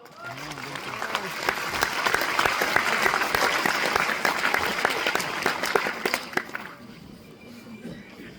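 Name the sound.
audience applause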